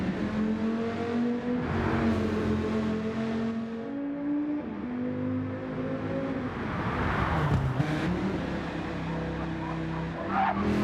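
Race cars roar around Mount Panorama in a racing video game, engines revving and shifting pitch continuously with brief tire skids, a dense, loud mix of several cars close by.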